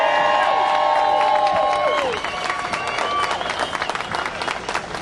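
Applause and cheering from a crowd at a public-education rally in Fort Worth, Texas, greeting a speaker as he takes the stage; loud, dense clapping with whoops, easing slightly after a couple of seconds but continuing throughout.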